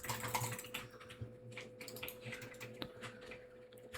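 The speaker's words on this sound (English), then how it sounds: "you want to go here and type in Windows Update" Keys on a computer keyboard tapped in a short run of quick, light clicks, close by with no talking, while a search for a system update is entered.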